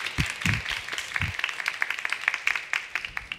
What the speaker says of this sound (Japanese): それでは皆さんどうぞ拍手でお迎えください。